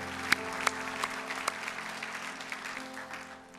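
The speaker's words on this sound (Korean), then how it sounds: "우리 하나님께 감사의 박수." Sunday worship congregation applauding in thanks to God, a few sharp claps up front swelling into a sustained, moderately quiet round of applause in a large church hall.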